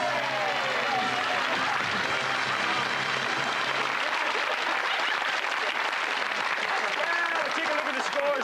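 Dense, continuous studio audience applause on a British game show celebrating the winning pair, loud and steady throughout with a brief voice at the start.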